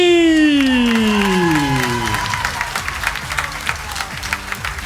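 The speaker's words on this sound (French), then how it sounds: "Et on applaudit bien fort nos ingénieurs lumière, Romain et Anthony." Concert audience at a June show applauds loudly for the lighting engineers, many hands clapping densely, with a falling sustained tone from the stage fading out as the clapping carries on alone.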